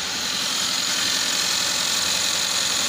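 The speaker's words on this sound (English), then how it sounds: "so let's see how the engine is running" Car engine idling roughly with a crankshaft sensor fault, a steady loud uneven rumble with shaky vibration that runs throughout, no voices.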